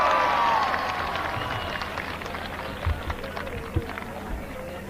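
A crowd at a political rally in Nankana Sahib, Pakistan, claps, dense at first and gradually tapering off, with a few louder individual claps near the end.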